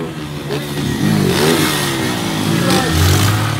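A motorcycle taxi's engine revs up and climbs in pitch, loud and close, with a rattling clatter as the bike bounces along.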